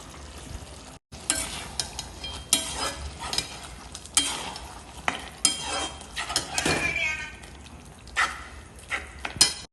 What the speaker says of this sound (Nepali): अब हेर्नु है साथीहरू, म यसमा मसला लाउन गइरहेको छु।